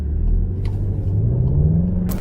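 A 2019 Volkswagen Jetta GLI 35th Anniversary Edition with a manual gearbox engine-brakes and rev-matches: a steady low engine drone with a rising tone, loud and close.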